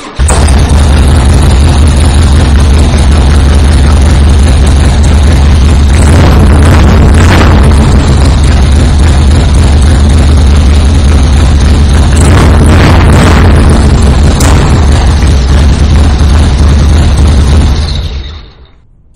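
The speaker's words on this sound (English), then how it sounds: "I am going to take the opportunity right now to fire the bike up so you can hear that Vance and Hines." The supercharged 2005 Harley-Davidson Fat Boy runs with Vance and Hines exhaust, a loud, deep, rumbling idle with bursts of revving, close by, before it shuts off near the end.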